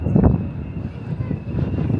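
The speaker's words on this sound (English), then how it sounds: "it's very windy on board the ship today" Wind gusts buffet the microphone on the open bow deck of the Queen Mary ship at Long Beach, a low rumbling roar that swells and eases in uneven waves.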